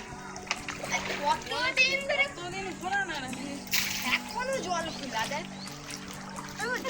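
A child splashes and stirs water collected on a rooftop, with continuous sloshing and splatter close by, while a child and an adult talk throughout.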